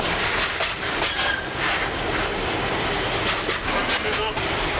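A moving train rolls steadily through the Bosnian countryside toward a brightly lit rail yard, its wheels and carriages producing a continuous, loud, broadband rumble and rattle throughout, with no slowing evident.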